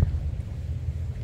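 Steady wind blowing by the sea on a dark night near coconut palms, a low continuous rumble with no voices.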